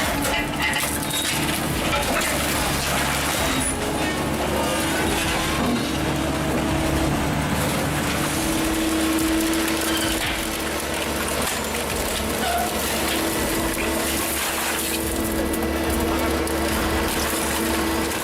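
An RR5 hydraulic scrap car baler with a 145 HP Perkins diesel engine runs continuously at close range, a steady loud engine drone and hydraulic whine with grinding, crushing scrap noise layered throughout.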